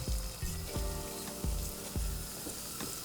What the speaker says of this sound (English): So now we are going to fry the sage leaves.